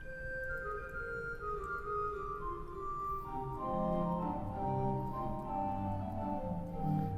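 A nasat stop on a huge 121-rank pipe organ in Washington DC, playing a slow descending line of sustained, reedy flute tones that overlap in a resonant hall, steady and moderately quiet.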